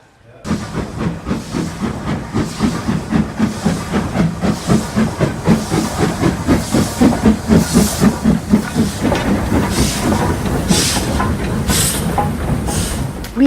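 Loud steam locomotive hissing and chuffing in a fast, steady rhythm at a steam gala near Loughborough, close by and continuous throughout.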